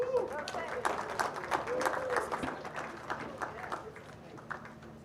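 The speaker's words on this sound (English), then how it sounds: "Let's give this panel another big round of applause again, guys." Audience at a leadership summit applauding a panel, a sustained round of clapping that fades toward the end, with a voice speaking over it.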